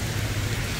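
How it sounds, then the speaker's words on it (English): Heavy rain pours steadily outdoors on a city street in Atlanta, a dense, continuous hiss with no pauses. "Man, it's raining hella hard."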